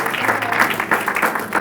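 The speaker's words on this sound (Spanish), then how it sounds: "Que usted le diera otro aplauso a Jesús" Congregation applauding Jesus during a church sermon, a steady dense patter of many hands clapping at moderate volume with broadband crowd noise and no talk.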